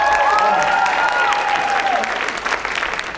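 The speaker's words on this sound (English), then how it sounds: "give it another applause for Jzairus." Loud, sustained crowd applause at a high school Black History program for a fifth-grade student speaker, with cheers and a whistle-like tone early on, tapering slightly toward the end.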